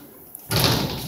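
A door being held open and swinging shut gives a sudden loud rushing clunk after a quiet lead-in, then a sustained close wash of noise.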